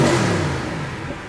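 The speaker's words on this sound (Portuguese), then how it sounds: "O motor tá quente. Posso dar uma aceleradinha?" A warm Mercedes engine revs briefly, a loud close rising roar that fades over about a second with no talking.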